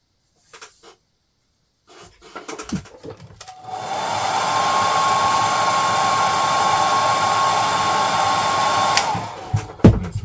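A hair dryer blowing on model paint swatches roars up after a few faint handling taps, then holds a loud, steady whine for several seconds before switching off.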